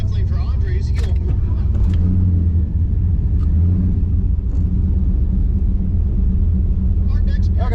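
A stick-shift Mustang drag races in a bracket race at Rocky Mountain Race Week, with a steady, heavy engine rumble and drone filling the whole stretch, plus voices talking over it.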